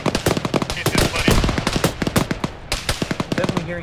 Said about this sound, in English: Definitely hearing gunfire from there